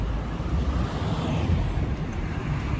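A Montreal city bus rumbles with a low engine drone and road noise at the end of a short ride, and a brief hiss of air brakes sounds over the steady traffic.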